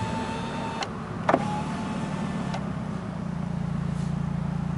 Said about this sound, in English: let me go ahead and roll the window down